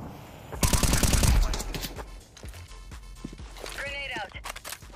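Gunfire in Counter-Strike 2 during a competitive match: a loud dense burst of rapid shots near the start, then scattered single shots and game effects under ongoing voice chat.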